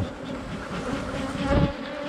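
Dense buzzing of many honeybees close by at a hive, a continuous droning hum that swells slightly, with no talking.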